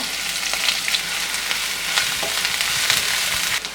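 Half an onion and curry leaves sizzle and crackle steadily in hot oil in a pan, loud and close, with no talk over the frying.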